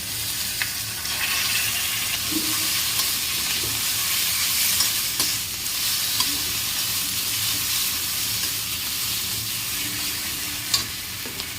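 Onion frying with garlic, ginger, cumin and chili paste for a village egg curry, with a steady close sizzle and occasional soft stirring clinks.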